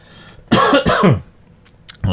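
Two or three harsh, close coughs in quick succession, followed by quieter breathy throat sounds and a short rough burst at the end.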